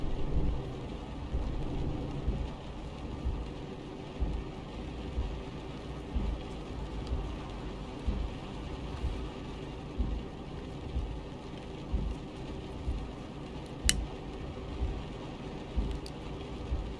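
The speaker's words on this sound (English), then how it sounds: "it just looks as if it's just going to be steady rain for a little while" Steady rain in Euro Truck Simulator 2 with the Naturalux weather mod, a continuous even hiss with a low rumbling bed underneath that holds constant throughout, with no talking.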